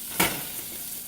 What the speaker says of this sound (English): And I'm just stirring the beans over here.